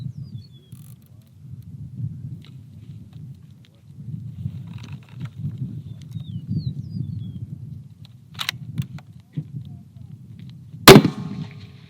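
One sharp, loud rifle shot at a target during an NRL Hunter match cracks out near the end, after a long stretch of low, wind-like rumble and a fainter click just before.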